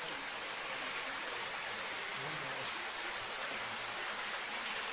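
Steady rushing water flows continuously through a canal, a broad even wash of noise heard alone without talk.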